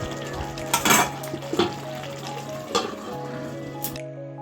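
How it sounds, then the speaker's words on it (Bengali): Fried potatoes being stirred into spices in a pan while fish cooks: metal utensil scrapes and clanks against the pan in a few irregular strokes over a soft background sizzle, close and fairly clear. "এবার আমি ভেজে রাখা আলুগুলো দিয়ে দিচ্ছি। ভালো করে মশলার সাথে মিশিয়ে নেব।"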